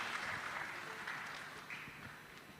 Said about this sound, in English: Give a round of applause for our event this morning